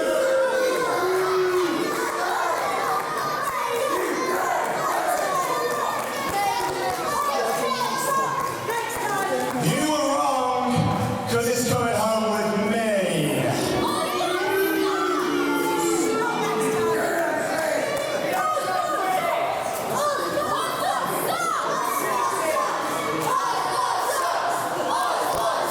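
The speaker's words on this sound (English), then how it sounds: "The crowd very vocal about their opinion on Joey Ozbourne." A crowd at a live wrestling-style fight show yells and jeers without a break, loud and dense with many overlapping voices rising and falling.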